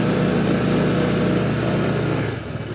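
A Honda PCX 160 scooter idles nearby with a steady, even low hum while being parked, the sound easing off slightly near the end.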